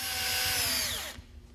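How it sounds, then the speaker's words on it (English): A power drill drilling pilot holes whirs at high speed for about a second, its pitch sliding down before it stops abruptly, leaving quiet room noise. "use a drill bit that is slightly smaller than your fastener size and drill your pilot"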